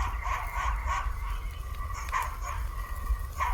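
A dog barks and yips in short, repeated bursts over a steady low rumble, sounding somewhat distant and moderately loud.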